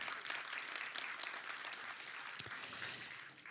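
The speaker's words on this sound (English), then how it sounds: "I also want to honor and applaud all of the past participants, adult and students alike, of this extraordinary program." Audience applause at a Witness Theater program at the Marlene Meyerson JCC Manhattan, a soft, fairly distant wash of many hands clapping steadily throughout, with no speech.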